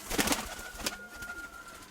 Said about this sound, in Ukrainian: Ось голубок.